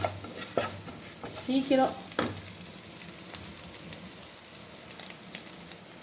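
Cooked rice is tipped into a frying egg mixture with coriander, mint and curry leaves and stirred with quick scraping strokes over a soft sizzle, and a voice speaks one word.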